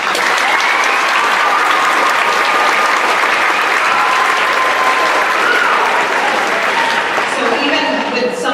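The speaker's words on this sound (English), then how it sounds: "Please give them a round of applause." A junior high awards audience gives the teachers and staff a loud, dense round of applause that holds steady throughout, with cheers and voices mixed in.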